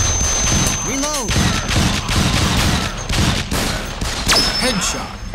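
Continuous arcade gunfire from Elevator Action Death Parade, loud rapid bursts of shots with thuds, mixed with a player calling out over the din.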